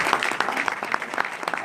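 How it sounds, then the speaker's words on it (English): Conference audience applause at a professional photographers' diversity meeting, a brief, dense spell of clapping heard mixed with a speaking voice. "give them a round of applause"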